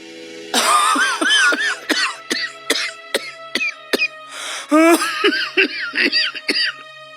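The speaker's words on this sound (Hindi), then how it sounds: "आप सारी रात खांसते रहते हो।" A man coughing in a rough, rapid series of hacking bursts, with short pauses between fits.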